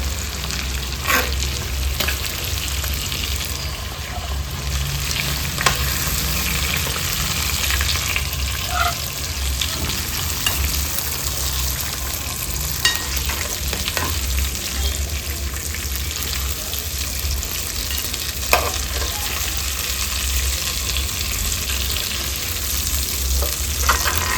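A batch of onions for chicken tikka biryani fries in a pan, giving a loud, dense, unbroken sizzle with occasional faint clicks over a low background hum.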